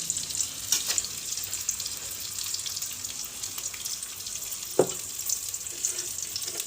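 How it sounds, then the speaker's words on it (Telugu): Onions frying in oil for a fish tamarind stew, a steady bright sizzle with a single soft knock partway through and no voices. "సో ఆనియన్స్ వేగుతూ ఉన్నాయి."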